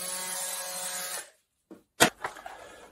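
A Bosch multitool with a Starlock plunge-cut blade buzzes loudly for about a second before cutting off, then a few sharp knocks and rattles follow at close range, without speech.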